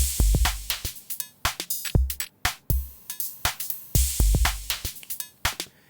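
A drum machine (Logic Ultrabeat default samples) pattern of punchy kicks, snappy snares and crisp hi-hats in a steady looping groove, played alone and fairly loud.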